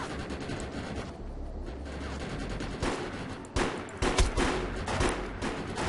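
Continuous gunfire and battle noise in the sci-fi shooter video game Defiance, a dense steady layer of shots with a few louder sharp bursts toward the end, no talking.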